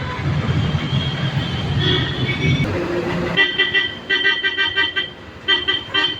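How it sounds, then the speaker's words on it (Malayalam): Congested town traffic in Payyoli: a steady low rumble of idling and moving vehicles, then repeated sharp car-horn honks sounding close by in short overlapping bursts during the second half. "പയ്യോളി ടൗണിലാണുള്ളത് അപ്പം ഭയങ്കര തിരക്കാണ് ട്രാഫിക് ജാമാണ്"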